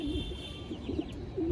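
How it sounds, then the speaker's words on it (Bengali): Old domestic pigeons at a home loft coo softly in a steady, low murmur, several birds overlapping continuously at close range with no voices. "আর সব আমার বাসার পুরাতন পায়রা।"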